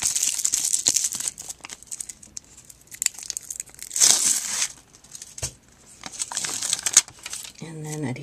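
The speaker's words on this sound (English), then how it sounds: "So I'm going to run those through my dial round sticker maker" Paper cutouts for a baby shower invitation run through a dial round sticker maker, giving close crinkling, tearing and crunching bursts at irregular intervals amid brief pauses, with a person speaking in places.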